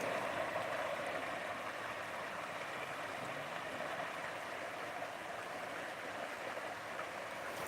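Creek water flowing steadily beside a cast iron bridge, a continuous broadband wash at even loudness with no talk over it.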